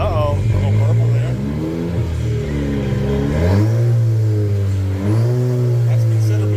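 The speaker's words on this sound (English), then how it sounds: "Sounds like a four-cylinder, right?" Chevy Colorado ZR2 Bison truck with a custom exhaust, revving: a loud, close engine note that rises and falls in several swells, sounding like a four-cylinder, with people talking and reacting over it.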